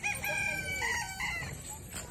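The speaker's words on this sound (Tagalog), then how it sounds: "Lo, kit sa manok." A rooster crows nearby, one drawn-out call with a rising and falling pitch, followed by softer clucking against outdoor background noise.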